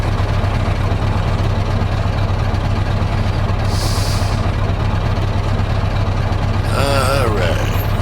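A heavy truck engine idles with a steady low rumble throughout, in the American Truck Simulator game, with a couple of brief higher mechanical tones rising over it near the end.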